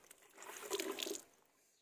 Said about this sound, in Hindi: आजकल हम ना थोड़े थोड़े कपड़े हाथों से ही धो देते हैं